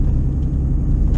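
A car drives along, heard from inside the cabin as a steady, loud low rumble of engine and road noise, with no talking during this brief stretch.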